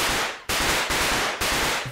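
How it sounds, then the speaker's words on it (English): Firecrackers going off in a fire in the video game Just Die Already: four loud, close, sharp bangs in a quick, even rhythm, with no talking. "I want to put these firecrackers in the fire, please"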